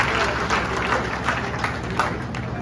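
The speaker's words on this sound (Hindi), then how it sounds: "एक बार तालियों के साथ इस महासेना का स्वागत करें" Audience clapping at a community meeting of the Dhanak samaj in Rewari, a welcome for a group on stage, heard as steady, fairly loud rhythmic applause with a constant background hum.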